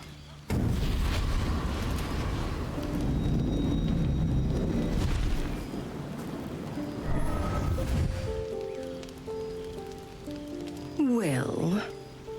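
A hellfire explosion in the Baldur's Gate 3 video game bursts out suddenly as a loud, roaring blast with crackling rumble that lasts several seconds, then fades into quieter tonal effects and a brief swooping sound.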